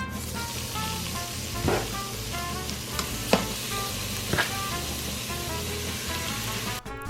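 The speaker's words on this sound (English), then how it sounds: "I'm going to sear the meat on all the sides" Meat searing in a hot pan alongside cut onion, a steady loud sizzle and crackle close by, punctuated by a few sharp scrapes and stirs as the pieces are turned.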